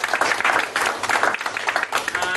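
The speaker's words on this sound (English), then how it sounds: "give this gentleman a round of applause" Audience clapping in a quick, lively burst with uneven swells of many hands, loud and close throughout the short stretch.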